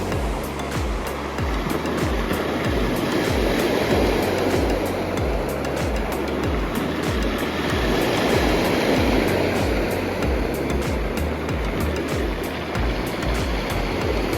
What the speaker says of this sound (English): I think you can actually hear the rocks when they roll down.